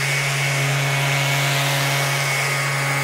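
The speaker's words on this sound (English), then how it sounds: "I'm going to turn it on, and it should turn the dust extractor on at the same time" A Festool RTSC cordless sander with 80 grit mesh runs together with its dust extractor, a steady loud motor drone and high whine holding constant throughout.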